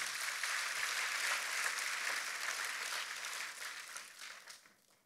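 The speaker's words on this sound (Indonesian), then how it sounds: "Dan tepuk tangannya yang paling meriah buat Tuhan kita." A church congregation applauds during a sermon, a broad sustained wash of clapping that holds steady, then thins and fades out toward the end.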